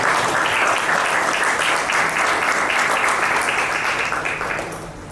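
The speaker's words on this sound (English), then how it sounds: "And I think a big round of applause to you." An audience at a literary festival applauding steadily, dense clapping that holds for several seconds and then tapers off at the end.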